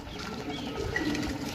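Black Teddy pigeons coo softly and steadily in a loft near Sarai Alamgir, Gujrat, with a low continuous murmur and faint rustle, no talking.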